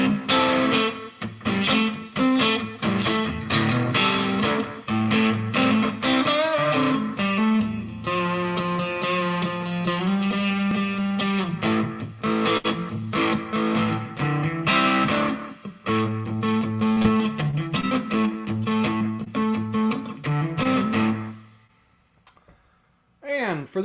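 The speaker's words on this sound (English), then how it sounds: "all the tones that you've heard, all that lovely breakup and such, is the new prototype from Mr. Petross" Overdriven electric guitar through a prototype distortion pedal, playing steady chords and riffs with warm breakup, loud and close for most of the stretch before dropping away near the end.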